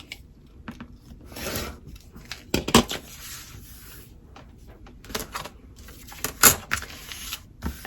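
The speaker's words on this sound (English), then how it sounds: "I'm going to trim off everything that is 1/4 inch beyond." Sewn fabric being trimmed on a paper-pieced quilt block, with scattered rasping cuts and scraping handling noises, a few sharper snips standing out against quiet room tone.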